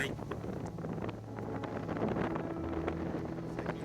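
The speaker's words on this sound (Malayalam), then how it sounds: "നല്ല കാറ്റുണ്ട്, മിക്കവാറും സൈക്കിൾ പോ വീഴും." Strong wind buffets the microphone while a cyclist rides a road into Austria after leaving Bratislava, a steady broadband roar running throughout.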